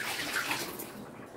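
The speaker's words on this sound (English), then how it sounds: "I'm just going to pour the water out because there is enough water" Hot water poured from canning jars into a water-bath canner, a steady close splashing pour that fades out near the end.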